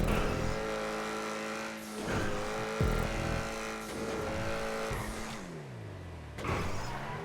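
The XA21 car in GTA Online racing, its engine revving high and rising through gears with sharp drops between shifts, loud and close.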